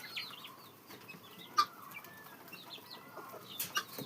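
Hens, including a grey hen, and a rooster cluck softly in a farmyard with chicks nearby: faint, scattered clucks and short calls over quiet background, with a couple of sharper bursts.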